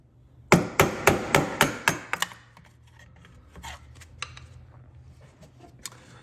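A flathead screwdriver is driven against a radiator hose clamp on a Fiat 500 Abarth, giving about seven sharp metallic knocks in quick succession and then fainter scraping and clicks.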